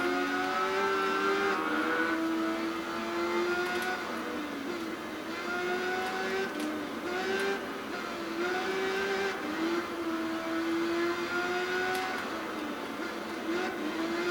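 A Honda VT250F motorcycle engine in the Tourist Trophy racing game rises and falls in pitch through repeated upshifts and revs, a steady buzzing drone with no voices.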